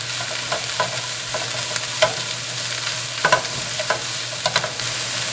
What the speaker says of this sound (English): You want to keep stir fry and saute and toss a little bit so the vegetable don't get burned.